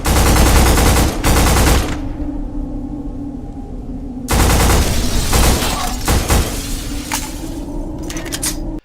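Firefights in the 2006 first-person shooter Black sound as loud, sustained machine-gun bursts with crackling impacts. Two long volleys are separated by a quieter lull, and the shooting is close and intense, with no talking.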